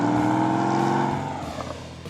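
Air-cooled flat engine of a Porsche 911 revving, a strong low harmonic drone that swells and then eases off as it pulls away, with no voices.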